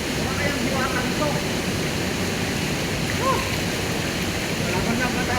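Flowing water from a waterfall makes a loud, constant rushing hiss throughout, with a voice faintly audible beneath the roar.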